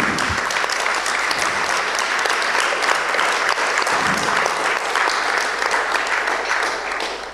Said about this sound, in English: You have heard the applause of these some 200 people here in the room.